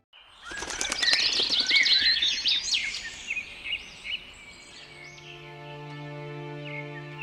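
Birds in an animated story: a loud burst of fluttering wings and bright chirps opens, then fades into softer tweets before a steady tonal background takes over.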